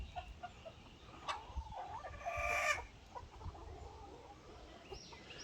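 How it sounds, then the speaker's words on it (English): A Blue Orpington rooster and hens cluck and chatter close by in a farmyard, with a brief louder squawking call in the middle and soft clucks continuing around it. "Orpington rooster."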